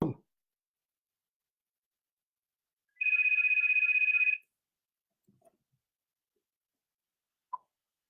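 A telephone rings once in a single short electronic burst, fairly clear and alone in a quiet room, followed by a few faint knocks and clicks.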